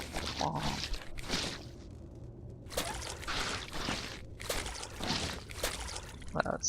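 Wet mopping and sloshing water in the video game Viscera Cleanup Detail, with repeated squishy, pouring swishes in bursts about a second long, fairly close and loud, broken by brief quieter pauses.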